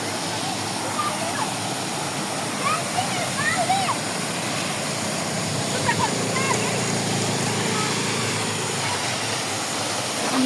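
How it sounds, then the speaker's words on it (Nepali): A waterfall seen up close on a hiking trail at Sibajhatta roars as a steady, loud broadband rush for the whole stretch, with faint voices and a few high chirps above the constant water noise. "झर्ना नजिकबाट"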